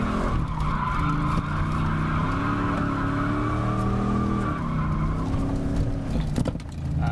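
A stunt car at a stunt-driving school swings through a turn and then brakes, tires squealing and skidding loudly over a droning engine for several seconds before the noise breaks off, with no voices.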